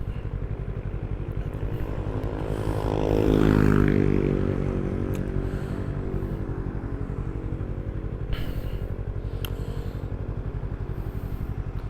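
A Yamaha MT25 motorcycle fitted with an original racing exhaust rumbles steadily and loudly throughout, swelling as it passes by about a third of the way in, with faint clatters later and no speech.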